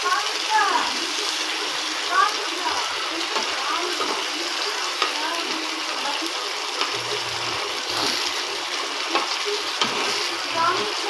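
Fish fries in a pan with a loud, steady, hissing sizzle that runs throughout, with occasional faint knocks of stirring and brief background voices under it.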